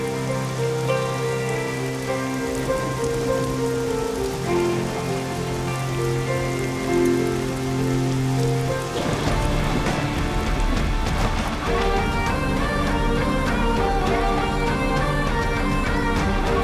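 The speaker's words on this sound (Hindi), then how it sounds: "बारिश आने वाली है," Steady rain pattering on surfaces outdoors, mixed with a tonal music or sound-effect bed; the downpour grows denser and louder about halfway through.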